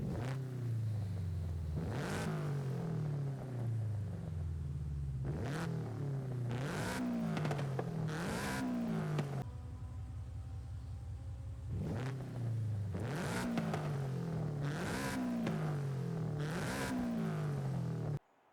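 Toyota GR86 and Subaru BRZ engines in Forza Horizon 5, repeatedly revving up through the gears with loud, continuous rising whines and sharp shift drops, one car after another, with no voices.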